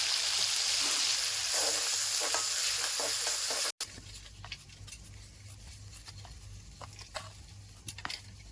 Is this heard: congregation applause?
no